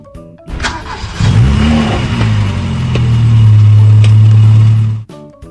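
A car engine starts and revs up, then holds a steady loud idle-to-rev drone for several seconds before cutting off abruptly.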